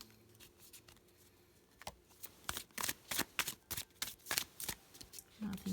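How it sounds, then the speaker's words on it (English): A deck of matte-finish tarot cards being shuffled, quiet riffling at first and then a run of rapid, close flicking bursts in an uneven rhythm, with no talking. "Let's go ahead and shuffle."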